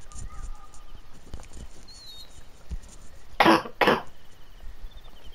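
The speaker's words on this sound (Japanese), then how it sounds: "咳が出ちゃうんだよね。" Two quick, harsh coughs close by, one after another, breaking an otherwise quiet background.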